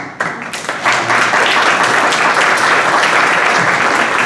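Audience at a 2017 Danbury city-wide PTO forum applauds with steady, dense clapping that swells after a brief start and holds at full strength without a break.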